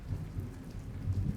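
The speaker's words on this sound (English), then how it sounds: "I could hear it sounds like thunder came from that side." Thunder rumbles low and steady through a lightning storm while rain falls, a brief, fairly faint roll with no voices.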